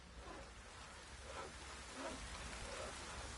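Steady rain patters in the Witcher 3 game world, a soft even hiss of drizzle with a faint low rumble beneath, quiet and continuous with no talking.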